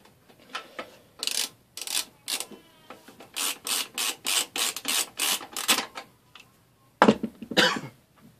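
A screwdriver tightens screws while hard drives are mounted in a PC case, giving a run of close, rhythmic scraping and clicking turns with a few short pauses.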